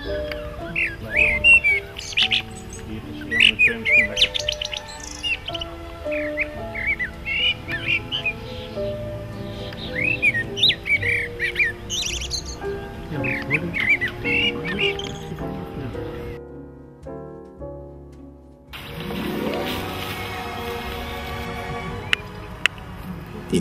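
Young little owls and an adult squeal, hiss and chirp in repeated short calls at an opened nest box during ringing, close up, with handling noises and a brief quiet gap before rustling resumes.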